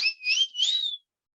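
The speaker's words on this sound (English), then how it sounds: "I love that whistle." A single clear whistle, close and alone, rises and wavers through three connected swoops before stopping abruptly, with silence after.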